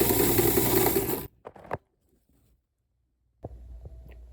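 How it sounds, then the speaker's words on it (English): Sewing machine stitching and gathering linen fabric for a dress, a close, fast mechanical run that stops abruptly, then a few faint clicks and the motor starting again briefly. "then I'm going to start sewing and try and hold this centered so that it stays right between"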